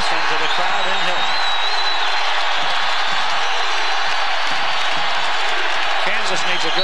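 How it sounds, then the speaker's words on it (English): Basketball arena crowd roaring and cheering continuously during a tight Kansas versus Iowa State college game in 1995, a dense loud wall of noise with an announcer talking over it. "Listen to the crowd in here."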